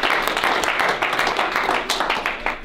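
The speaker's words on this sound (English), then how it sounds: "give yourselves a big round of applause" An audience applauding: dense, continuous clapping, fairly loud and close, lasting a few seconds.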